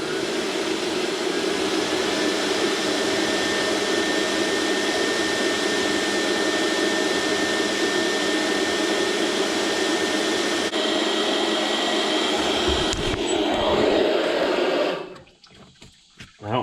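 Compressed air hissing steadily through the cooling system of a mechanical DT466 diesel, a loud continuous rushing blow that holds for about fifteen seconds, then cuts off abruptly.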